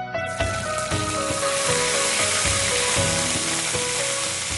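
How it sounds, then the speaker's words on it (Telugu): Ginger garlic paste hits hot oil with cumin seeds in a pan, giving a loud, steady sizzle and crackle throughout, with faint scraping stirs and no talk. "నెక్స్ట్ జింజర్ గార్లిక్ పేస్ట్ వేస్తాను."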